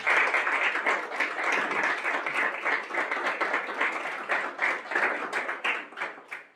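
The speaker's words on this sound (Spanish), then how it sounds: "Un aplauso para todas." An audience claps steadily through the whole stretch, dense and sustained applause at even loudness, with no talk over it.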